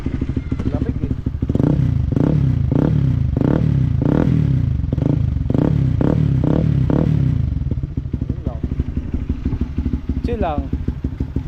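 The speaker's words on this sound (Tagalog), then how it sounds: "Siguro painitin mo pa yung tambutso para mukhang eh." A Honda CB150X motorcycle idling while warming up on a cold day, its engine pulsing with a row of regular throttle blips, then settling back to a steady idle while people talk nearby.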